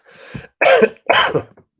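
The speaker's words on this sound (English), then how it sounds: "I'm coughing up a lung" A person coughs two or three times in quick succession, close and loud, with short harsh bursts and brief pauses between them.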